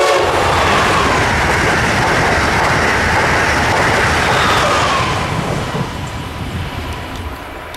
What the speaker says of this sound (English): Amtrak Acela Express train number 2159 in Boston, Massachusetts races its way south to DC